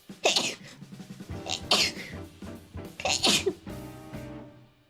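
A person sneezes several times in quick succession, loud and close, each burst sharp and breathy, with brief pauses and a faint voice between them.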